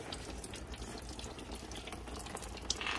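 Transmission fluid draining from the pan of a 6L80 automatic transmission in a 2011 Suburban, a steady close trickling pour that runs without a break and stays fairly quiet.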